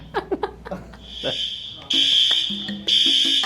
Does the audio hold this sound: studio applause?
no